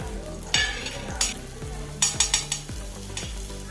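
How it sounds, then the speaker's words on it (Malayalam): Ghee sizzling in a pan around wheat flour snacks, a loud close hiss broken by repeated sharp bursts and clattering knocks, with no talk. "ഇനി നമുക്ക് സൈഡിലേക്ക് കുറച്ച് നെയ്യ് ഒഴിച്ച് കൊടുക്കാം"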